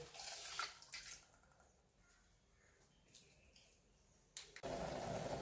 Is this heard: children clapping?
no